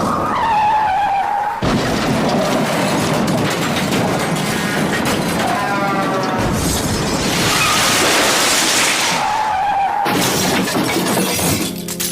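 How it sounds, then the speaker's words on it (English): Car tires screech into a loud crash with shattering glass, the skid rising and falling over roughly ten seconds before tapering off, all loud and close with no talking. "That's you in a car crash."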